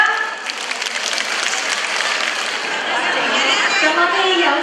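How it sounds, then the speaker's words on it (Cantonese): An audience applauds performing groups at a senior and youth variety show in Macau, with loud, continuous clapping and some crowd chatter mixed in. "我哋掌聲歡迎佢哋啊！"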